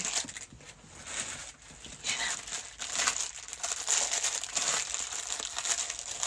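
A piece being taped back, with close crinkling and rustling of tape and paper that comes in irregular bursts throughout and is heard alone.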